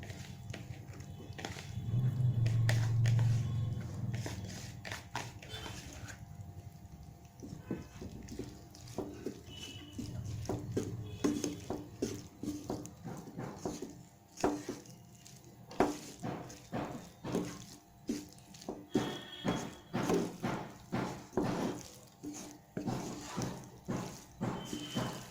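A spoon stirs soaked flattened rice (aval) into vegetable biryani in a pan, making a close run of rhythmic scraping clicks that grows busier in the second half, with a low hum near the start and no talking.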